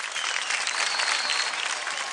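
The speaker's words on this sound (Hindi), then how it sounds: "जोरदार तालियां दादू के लिए।" Loud, steady applause from a TV singing-competition studio audience, dense clapping sustained throughout without a break.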